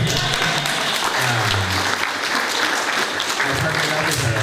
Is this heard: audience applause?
yes